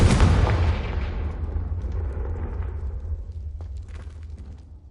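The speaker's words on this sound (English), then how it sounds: "Have a go at those candelabras. Confringo!" The Confringo fire spell in Hogwarts Legacy blasting candelabras: one loud, deep explosion at the start that rumbles and slowly fades over several seconds, with faint debris clinks in the tail.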